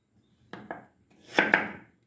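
Knife cutting potatoes on a board while preparing spicy potato and bamboo shoot curry, two sharp close chops followed by a louder scraping cut with two more strikes, in a quiet kitchen.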